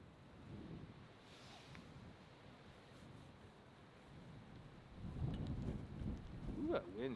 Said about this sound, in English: that wind just kicked right on my back.